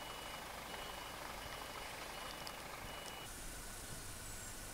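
Reversing beeps from a lorry backing into a lay-by beside a food factory on the Isle of Arran, a steady beeping over idling engine noise and outdoor hiss at moderate distance.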